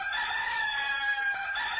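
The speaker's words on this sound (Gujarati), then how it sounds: "એક સવારે કૂકડો વંડીએ ચડીને બોલ્યો" A rooster crows loudly and close, one sustained cock-a-doodle-doo filling the whole moment with no other sounds around it.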